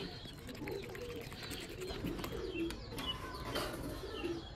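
Pet pigeons coo softly nearby in low, rolling calls, with scattered light chirps and faint rustling behind them.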